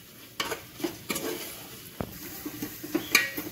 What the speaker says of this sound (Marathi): हे मसाले आहेत ना कांद्यामध्ये आणि तेलामध्ये व्यवस्थित परतळून घ्यायचे आहेत आपल्याला